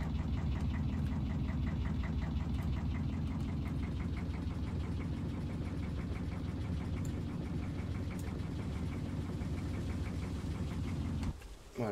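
A fishing boat's engine runs steadily on the Barents Sea, a loud, continuous low throbbing drone that holds for the whole stretch and then drops away abruptly near the end.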